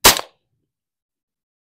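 One sharp, loud gunshot from a Ruger LC Charger pistol firing AAC 5.7x28 40 grain FMJ ammunition, a single crack that cuts off quickly into silence.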